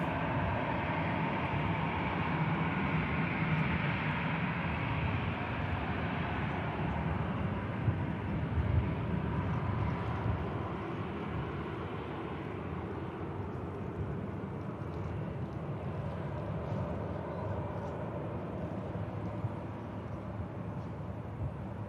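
An arriving aircraft taxies in at Manchester Airport with a broad, steady jet-engine roar, loud at first and easing slightly as it goes on, with no voices over it.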